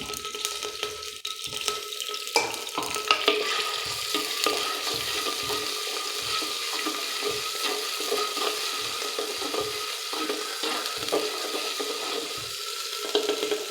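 Ground ginger and garlic paste fry in a pan of oil for a country chicken curry, a continuous soft, watery sizzle with occasional stirring clatter, close and fairly quiet.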